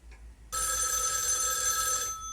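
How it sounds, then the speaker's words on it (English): A telephone rings in a video game, a loud, continuous electronic bell trill that starts abruptly and holds for about a second and a half before cutting off, heard alone without speech. "What? Another phone call?"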